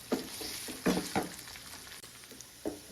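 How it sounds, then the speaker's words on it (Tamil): Chicken pieces frying in oil for a chicken pickle give a close, continuous sizzle, punctuated by several bursts of stirring and spatter. "இப்போ வந்து இந்த சிக்கன் வந்து இந்த எண்ணெயிலே வந்து ஃப்ரை ஆகணும்"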